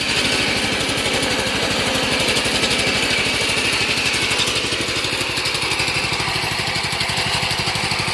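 A 1967 Sears Suburban garden tractor engine runs steadily nearby, a loud, even small-engine chug with a rapid pulsing beat and no voices.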